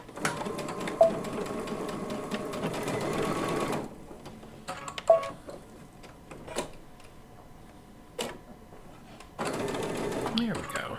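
Sewing machine stitching a flowered quilt block in two steady bursts with a quiet gap of small clicks between them, and a person speaks briefly.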